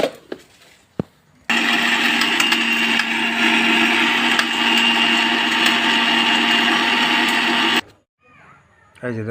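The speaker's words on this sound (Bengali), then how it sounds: "এই হলো গ্রিন্ডার মেশিন" A grinder machine grinds dry fish into powder in a loud, steady, whirring run of about six seconds, bracketed by short clicks and handling noises before it starts and after it stops.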